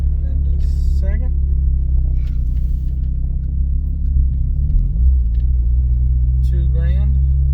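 Car engine cruising in fifth gear at about 1,500 RPM, a steady deep droning rumble under a man's ongoing speech throughout.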